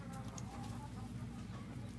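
Free-range chickens clucking on a pasture farm, a dense, low, continuous murmur of many birds with occasional higher calls, heard close and without talk.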